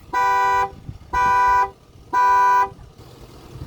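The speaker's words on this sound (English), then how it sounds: "They got the vehicle open now, and it's gonna start making the alarm go off." A car alarm blares three long, even honking tones in a steady rhythm, each about half a second long, loud and close, with brief gaps between.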